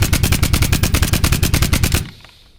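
An MP443 pistol in a video game fires a fast, steady burst of about two dozen close, loud cracking shots for two seconds, then stops and leaves a short fading tail.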